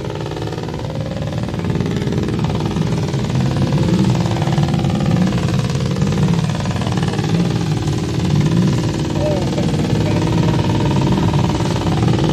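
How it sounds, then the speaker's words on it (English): Racing sidecar motorcycles roll one after another through the paddock gate before the Pre-TT Classic sidecar race, a loud, steady rumble of engines close by with no break. "You can enjoy the sounds of every single sidecar that is passing to head out there to start their race."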